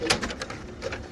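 Pigeons coo and flutter softly in a loft housing hundreds of birds, a brief close murmur of low calls.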